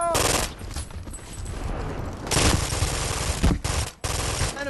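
Rapid automatic gunfire from the shooter Brink, loud close bursts rattling almost without pause, broken by a brief dip and a few sharp reports near the end.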